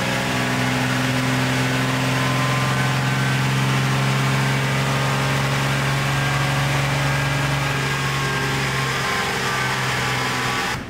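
A first-generation Cummins diesel truck engine runs hard on a dyno, producing a loud, continuous, steady drone with a strong low hum that holds for about ten seconds before cutting off at the very end.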